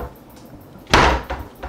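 A wooden cupboard door in a family home swings shut with one solid knock near the middle, followed by a couple of softer bumps from the doors settling. It is close and fairly loud against a quiet room.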